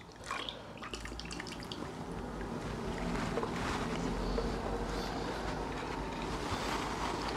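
A cocktail, a Madagascar gimlet, poured through a sieve into a glass: a soft, continuous trickle and splash of liquid, faint and close, with small drips at the start.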